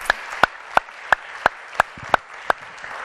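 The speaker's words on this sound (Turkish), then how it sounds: "Petek'le devam ediyoruz Hande'ye alkışlarken" A TV talk-show studio audience claps in unison, with sharp, loud claps landing on an even beat about three times a second, nine or so in a row.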